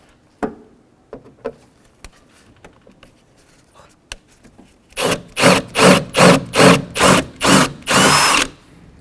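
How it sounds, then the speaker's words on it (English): Power drill boring out the rivets of a door lock actuator on a 1988-2000 Chevy K1500, a series of about seven loud, close, steady bursts of whining grind separated by short pauses, after scattered light clicks and handling knocks. "Let's continue and drill out these rivets."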